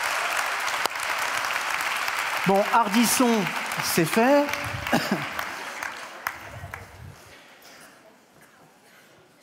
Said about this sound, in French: Et là, vous pouvez applaudir.